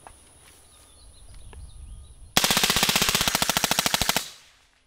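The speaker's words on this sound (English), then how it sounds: "We're gonna shoot a full magazine of 300 Blackout full auto." Suppressed Daniel Defense M4 ISR rifle firing a full magazine of 300 Blackout, supersonic then subsonic rounds, on full auto: a quiet lead-in, then one close, loud, rapid string of about two seconds that stops abruptly.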